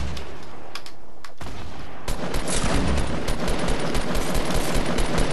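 Rapid gunfire in Fortnite, a quieter start followed by a dense, loud burst of repeated shots continuing steadily to the end, with no talk over it.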